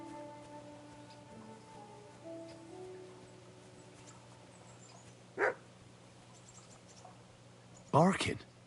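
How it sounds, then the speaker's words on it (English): A dog in Kingdom Come Deliverance 2 barks twice from a distance, one short bark and then a louder one a few seconds later, over faint rain-like ambience and low game music. "Barking."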